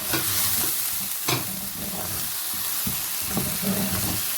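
Turmeric, salt, chilies, cumin powder and white pepper frying in a pan, a loud continuous sizzle broken by a few sharp stirring scrapes, no talking.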